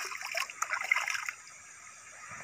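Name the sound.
river water flowing at night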